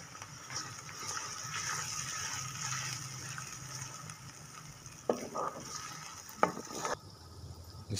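Ginger garlic paste and green chillies frying in a pan for a tandoori cauliflower sabzi, giving a steady soft sizzle with a few brief stirring scrapes near the end, no voices.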